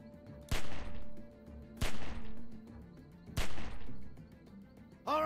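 Three separate loud gunshots, each ringing out with a decaying echo, in The Walking Dead video game, spaced about a second and a half apart, with a faint steady tone underneath.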